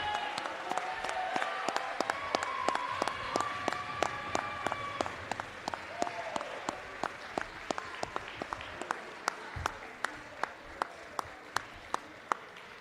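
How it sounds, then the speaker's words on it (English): A banquet-hall crowd at a college athletics awards dinner claps for the graduating seniors, a dense round of applause that thins toward the end into scattered, distinct individual claps. "let's give a round of applause to the graduating class of 2026"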